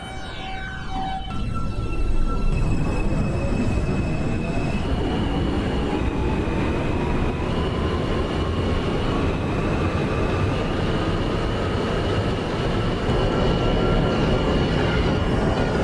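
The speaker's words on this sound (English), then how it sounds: "This is a Brooklyn-bound J local train." A J local subway train in the OpenBVE simulator, Brooklyn-bound toward Coney Island, runs steadily and loudly with a constant low rumble, squealing wheels and rising motor whine, rail noise continuous and close throughout with no talking.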